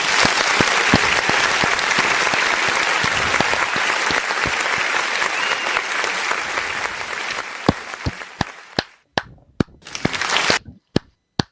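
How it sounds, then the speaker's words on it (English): A crowd claps loudly and continuously, a dense wash of applause that thins toward the end into scattered single sharp claps with gaps of silence between them. "Clap, because this is very important."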